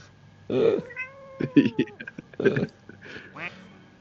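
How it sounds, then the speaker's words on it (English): A series of cartoonish cat meows from a plastic duck in Placid Plastic Duck Simulator, several short bursts with rising and falling pitch, loud and close, one after another with brief gaps. "There's a cat duck."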